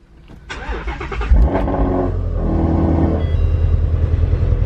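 A new Shelby GT350's engine cranks briefly on its first start, catches and fires up, then settles into a loud, steady idle rumble close by.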